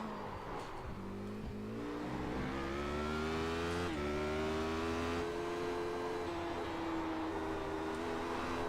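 A Radical race car engine in the iRacing simulator hums steadily while the throttle is balanced through corners, the pitch stepping up and easing back through gear changes, a continuous fairly quiet drone with no talking.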